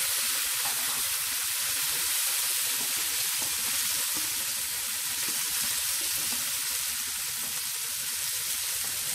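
Tomatoes and green chillies fry with onions in a pan, giving a loud, unbroken sizzling hiss that holds steady throughout with no talking.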